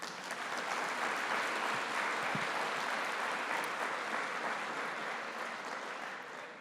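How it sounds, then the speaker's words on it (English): An audience at the 2014 Math Prize for Girls event gives a round of applause, a continuous thick wash of clapping at an even level throughout, with no speech over it. "let's finally have a round of applause for all of you"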